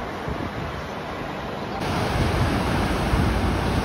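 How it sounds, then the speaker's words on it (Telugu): Heavy rain pours down in Dubai, UAE, as a broad, roaring wash of noise that swells louder partway through and continues unbroken, with wind buffeting the microphone. "మళ్ళీ స్టార్ట్ అయింది. ఇంకెక్కడి నుంచి మళ్ళీ మొదలెడుతుంది వర్షం"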